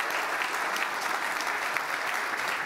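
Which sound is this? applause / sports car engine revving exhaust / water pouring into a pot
applause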